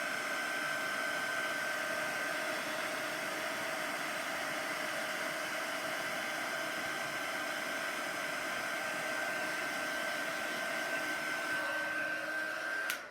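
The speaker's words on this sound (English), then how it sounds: "all I'm doing is holding my heat gun still and then moving the heat gun over the image like so" A heat gun blows a steady, even, close whoosh with a faint whine while warming an embossed card image, then cuts off at the very end.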